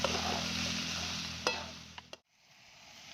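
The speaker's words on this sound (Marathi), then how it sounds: "आता मसाला टाकून दे चांगले एक मिनिट भर मी परतून घेते जरा" Spice masala sizzling and being stirred in a hot pan, a loud close frying hiss with a few scraping stirs before it cuts off abruptly to quiet.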